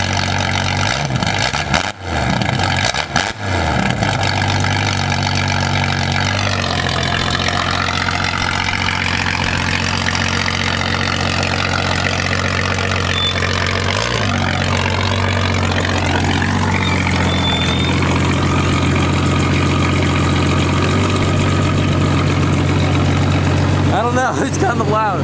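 A straight-piped 4.0 Jeep Cherokee engine idles loudly and steadily for the full stretch with a deep, even rumble, briefly blipped once near the middle, while people talk over it.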